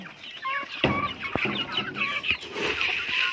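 Chickens on a farm cluck steadily up close, with short clucks and squawks overlapping loudly and no one speaking.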